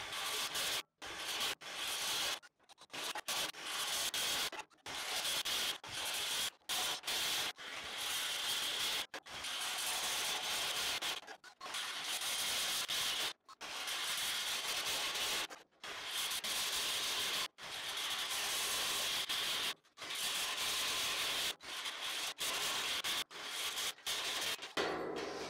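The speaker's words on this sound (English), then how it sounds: "We're still drilling." Power drill boring holes through a metal burn barrel, a loud continuous grinding whine in repeated bursts separated by brief pauses, close and alone without talking.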